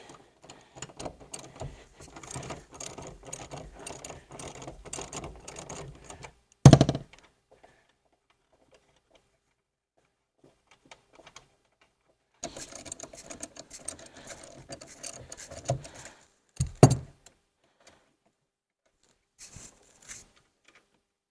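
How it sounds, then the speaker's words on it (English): Bolts being unscrewed from the rear seat of a Jeep Gladiator: bursts of rapid mechanical ratcheting or driver whirring, broken by silent pauses and a few sharp louder clunks, close up with no talking. "So getting this last bolt out."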